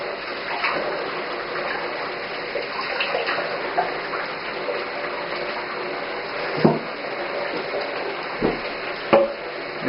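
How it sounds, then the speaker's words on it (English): A continuous stream of cool water pours and splashes into a hot foot bath basin, steady and fairly close, with a few louder knocks near the end. "Just a little bit more cool water."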